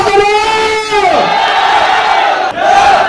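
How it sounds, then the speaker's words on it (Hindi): A crowd at a network marketing training event roars and cheers in a loud, sustained wave of voices, with a brief dip near the end before the noise swells again. "एक जोरदार तालियां मैडम के लिए होनी चाहिए"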